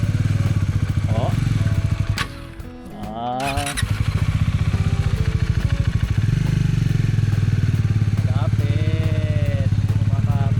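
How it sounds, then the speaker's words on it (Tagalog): A motorcycle ridden across beach sand during a motocamping trip, its engine chugging steadily and loud up close, briefly dipping and revving before settling back into a constant drone, with people talking over it. "Gusto raw masubukan ni Tropa magmotor sa buhangin."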